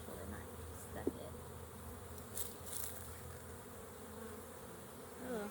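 A crowded honey bee hive drones with a dense, continuous buzz during an inspection, faint but steady, with a few small knocks and shifting tones across several seconds.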